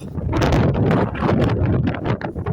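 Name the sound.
wind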